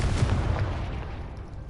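A Confringo blasting spell explodes in Hogwarts Legacy, a loud, dense rumbling burst that fills the whole clip and slowly tapers off.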